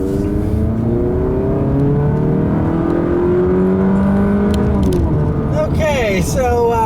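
The 2.4-liter four-cylinder engine of a 2015 Chrysler 200 Limited drones and climbs through its revs as the car accelerates along a back road. Heard from inside the cabin, the engine tone rises steadily while someone talks over it.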